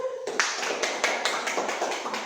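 A classroom group claps together in a short burst of applause during a microteaching lesson, a dense run of quick claps lasting a couple of seconds.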